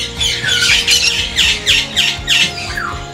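A green conure lets out about seven harsh, rasping squawks in quick succession, loud and close, each a short grating burst with brief gaps between.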